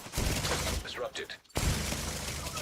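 Automated turret gunfire in Tom Clancy's The Division 2, a loud dense rattling burst that breaks off for a moment and then resumes, with game effects mixed in.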